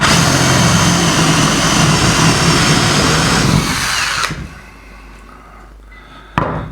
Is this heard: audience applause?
no